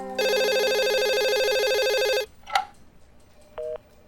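An electronic telephone ringtone trills loudly and steadily for about two seconds in a women's police station office in Lucknow. A brief clatter and a short beep follow.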